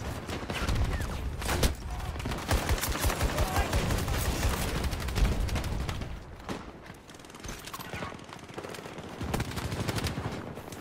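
Dense automatic and burst gunfire from the shooter game Battlefield 2042, rapid cracking rounds rattling close and loud through most of the stretch, easing toward the end, with a voice talking over the shots.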